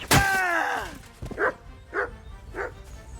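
Dog in the video game Kingdom Come: Deliverance II gives a sharp yelp, then three short gruff barks at an even pace, close and fairly loud.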